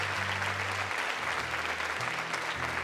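A church congregation claps together in a dense, steady burst of applause, close and continuous, with a faint low hum underneath.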